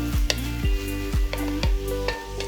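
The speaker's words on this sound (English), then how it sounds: "Just go ahead and mix everything together again." Diced onions, bay leaves and minced habanero pepper being stirred in a pot for beef jollof rice, with a spoon scraping in four or five regular strokes over a steady background sizzle, close and clear.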